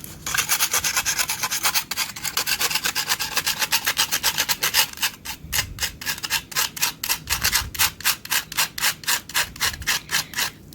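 Aluminium foil scrubbing rust from a vintage 1950s metal canister, a close, harsh rasping rub in steady rapid strokes that turn into sharper, distinct back-and-forth scrapes partway through, with no voices.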